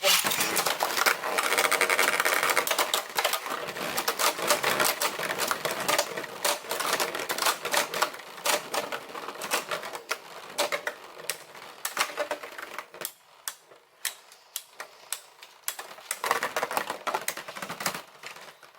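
A fake Dranzer Beyblade from AliExpress whirs and rattles in a plastic arena, a loud, dense clattering buzz that goes choppy and intermittent as it slows and wobbles.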